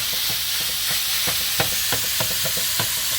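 Venison chorizo sizzles and browns in a pan, with a steady bright frying hiss throughout and repeated scraping stirs of a utensil at an irregular rhythm.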